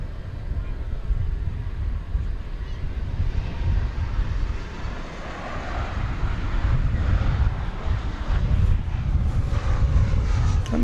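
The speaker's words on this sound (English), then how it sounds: "That plane will be 33 years old in September. 757-200." A Boeing 757-200 airliner more than thirty years old departing DFW Airport at night, a low rumbling engine roar steady under wind-buffeted noise at moderate distance.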